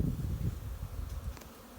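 Honeybees buzz around a hive feeder, a steady, close insect drone that holds throughout with no talk.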